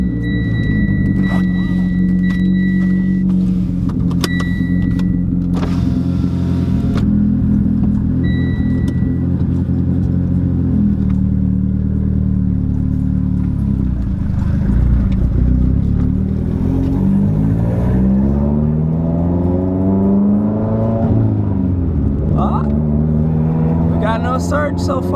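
Mitsubishi Lancer Evolution X with a turbo surge problem driving on the road, its engine droning steadily close by through the run and rising in pitch as it accelerates through gears.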